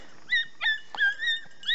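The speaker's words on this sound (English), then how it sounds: "Little tiny barks up there." Beagle hounds on a rabbit hunt give a few high, squealing yips and whining barks, several short calls spaced out and heard at a distance in a quiet field.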